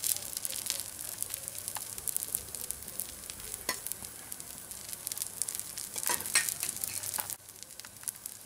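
Oil sizzles in a pan on a spread masala dosa with a steady bright hiss, broken by occasional scraping and stirring clicks up close. No one speaks.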